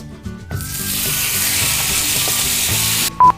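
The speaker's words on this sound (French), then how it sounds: "On va donc pouvoir faire revenir la viande quelques minutes dans une poêle" Marinated chicken pieces browning in a frying pan, a steady loud sizzle that starts abruptly and holds for about two and a half seconds, with a few scraping stirs and a short beep at the end.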